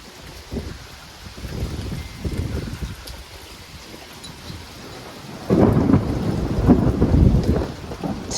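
Loud thunder rolls through a thunderstorm with steady rain, one rumble early and a heavier, booming crash in the second half, close and strong, with no talking.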